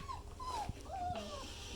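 A litter of German Shepherd puppies whimpers in a warm, roomy enclosure: several thin, high, wavering whines in quick succession, close and fairly quiet, with no talking.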